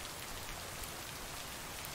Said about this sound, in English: Friday, September 5th, morning. It's raining.